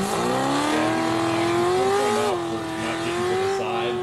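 A car revs hard as it accelerates, its engine note climbing steadily and then dipping and rising again, loud and continuous with a hint of tire noise.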